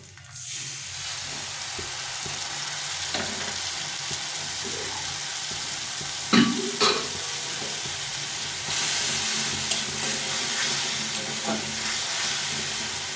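Chili, turmeric and cumin powder fry with garlic in a pan for masala chana, giving a close, steady sizzle and hiss. A couple of sharp clatters from stirring sound midway, and the frying swells louder toward the end.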